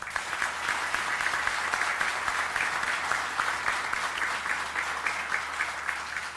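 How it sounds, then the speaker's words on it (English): Audience at an academies celebration applauding two high schools, dense and steady clapping that carries on for several seconds at an even level, with no talk over it. "We'll give them a round of applause."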